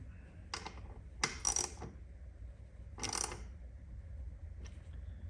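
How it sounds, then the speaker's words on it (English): A ratchet wrench snugs a bolt on a BMW R NineT motorcycle mirror, giving a few short clicking bursts up close in a quiet room, with no voices. "Just hand tight with a ratchet."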